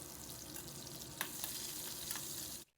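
Cumin seeds and crushed garlic fry in hot oil in a pan, a steady close sizzle with a few sharper crackles and stirring clicks, cutting out abruptly at the end.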